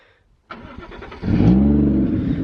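A Toyota Chaser imported from Japan cranks briefly with the starter, then catches and flares into a loud rev before settling into a steady, rumbling idle through a quiet silenced exhaust.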